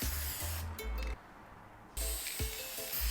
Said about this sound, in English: Maybe because it's spray paint on fabric.